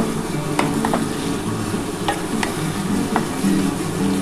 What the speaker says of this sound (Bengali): এটা এবার ভালো করে কষাতে হবে